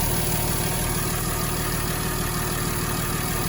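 A Porsche Boxster 986 with a weak fuel pump idles steadily, a constant low engine hum with even vibration and no other sounds.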